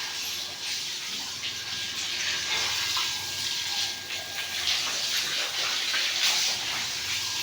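Water gushes and splashes steadily across a house courtyard as it is washed down, fed from a new house's tank, a continuous close rushing wash with no voices.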